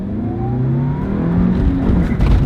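A sports car pulls away from a standstill, its engine note rising steadily as it accelerates, loud and close with no talking.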